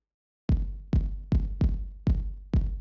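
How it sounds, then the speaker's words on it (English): A synthesized drum patched through reverb in VCV Rack, struck six times at a steady pace, each hit a deep booming thump with a reverberant tail, loud and alone with no voices. "we're hearing the drum through the reverb"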